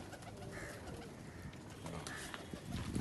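Pigeons coo softly in a loft setting, their low murmuring calls faint and close under people talking nearby.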